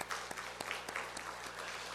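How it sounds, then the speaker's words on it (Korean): A church congregation applauds, with dense overlapping claps forming a steady, moderately loud patter that carries evenly through the hall. "우리 박수 한번 하도록 하십니다"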